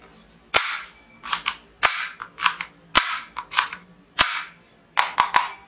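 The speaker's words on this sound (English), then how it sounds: "Final one, projector game toy pistol." A plastic projector game toy pistol fires in sharp cracking bangs, about a dozen shots in quick irregular clusters, loud and close.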